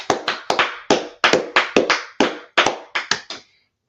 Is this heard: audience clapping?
yes